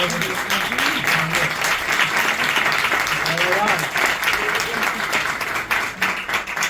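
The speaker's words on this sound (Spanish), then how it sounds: "por favor un aplauso a Jorge, a mi primo." A crowd at a book presentation in Linares breaks into sustained, dense applause, steady and fairly loud for the whole stretch, with voices faintly audible beneath the clapping.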